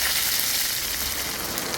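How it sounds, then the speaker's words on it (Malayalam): Coconut oil heats in a pan on the stove for a Kerala-style tempering, giving a soft, steady, continuous sizzle throughout with no voices. "എന്നിട്ട് വെളിച്ചെണ്ണ ഒഴിച്ചു കൊടുക്കുക."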